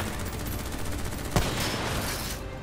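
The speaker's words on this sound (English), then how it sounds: "Who's shooting?" Sustained bursts of automatic gunfire in Call of Duty: Black Ops III, a dense rapid rattle with one sharper close shot partway through, loud and continuous with no talk over it.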